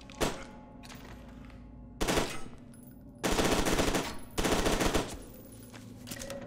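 Bursts of automatic gunfire in the shooter F.E.A.R. 2: Project Origin, four loud volleys separated by short pauses, each a rapid rattling string of shots with no talking over them.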